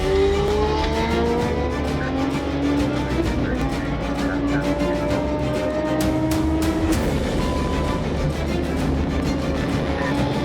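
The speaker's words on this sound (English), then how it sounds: "The rider looks back, then suddenly accelerates and takes off." A motorcycle fleeing police accelerates hard to triple-digit speeds on a highway, its engine climbing through rising whining tones over a dense, steady roar of wind and road noise.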